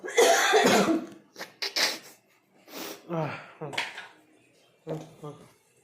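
Several harsh coughing fits close by, irregular bursts with short pauses between them, some sounding like throat clearing.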